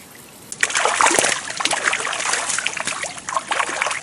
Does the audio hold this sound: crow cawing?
no